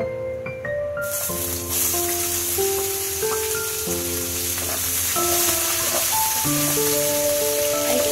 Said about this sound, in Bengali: আমি ওই ভাজা তেলেই পেঁয়াজটা দিয়ে দিব।